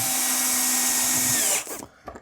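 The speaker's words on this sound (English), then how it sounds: "I'm just going to drive these screws in" Cordless power drill driving screws into a wooden gate, a loud steady whir lasting about a second and a half that stops abruptly, followed by faint handling knocks, close up with no speech.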